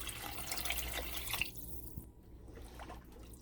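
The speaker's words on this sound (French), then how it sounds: "on va couvrir maintenant avec de l'eau jusqu'à la hauteur ou jusqu'à la limite de la quantité de soupe qu'on souhaite" Water running into a pot of chicken soup: close, steady splashing and trickling that cuts off partway through, leaving a few faint drips and small clinks.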